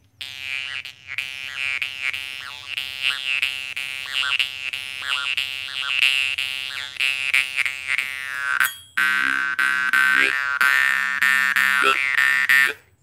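A jaw harp played with the mouth and throat hollowed out drones loudly and continuously, its bright buzzing overtones warping and shifting, with a short break near the middle before the twang resumes.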